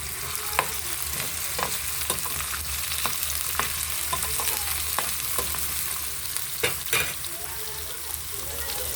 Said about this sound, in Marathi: टोमॅटोला आपण हलवून घेऊया.